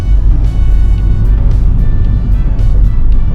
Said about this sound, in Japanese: 手前に引くとアクセルになります。 こんな感じで前に進んでおります。